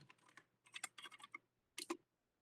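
Soft keystrokes on a computer keyboard come in a few quick bursts and short runs, close and quiet, with no talking.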